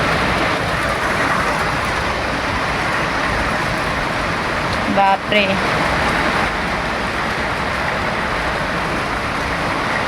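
Heavy rain falls as a steady, loud, hissing wash that fills the whole stretch, with a brief exclamation from a voice in the middle.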